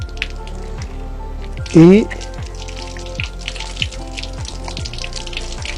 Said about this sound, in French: J'ouvre à nouveau le robinet